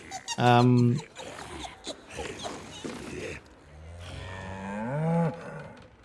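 A deep, drawn-out cow moo from the video game Baldur's Gate 3 sounds loudly at the start, followed by speech and a second lowing, rising animal call.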